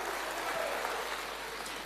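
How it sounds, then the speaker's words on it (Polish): Audience applause at a Silesian folk gala concert, a brief, steady wash of clapping from a large crowd, even in level and somewhat distant. "Wielkie brawa"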